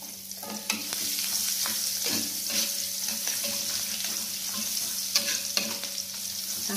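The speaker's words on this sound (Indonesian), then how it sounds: "Lalu yang pertama masukkan bawang putih ya." Garlic sizzles in hot oil and margarine in a pan for sweet orak arik tempe, a steady frying hiss with scattered stirring clatters and scrapes throughout, no voices.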